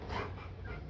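Rottweiler puppies growl and whimper together at close range, a steady run of low rumbling and thin whining cries with no pause.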